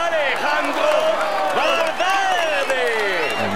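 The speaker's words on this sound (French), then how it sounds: "Allez, on l'applaudit encore." Crowd applause and cheering in a cycling game during a Dauphiné stage, a dense wash of clapping and whoops with many overlapping voices, steady and fairly loud.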